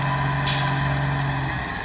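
A heavy truck engine idles steadily at close range with a constant low hum, in a sugarcane field, no voices heard.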